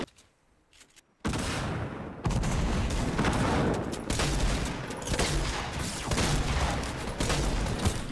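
Dense bursts of gunfire in a Fortnite match break out after a quiet second and rattle on continuously, loud and close with overlapping shots.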